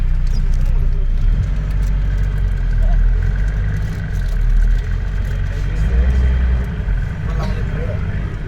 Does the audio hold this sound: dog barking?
no